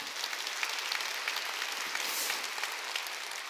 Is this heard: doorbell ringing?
no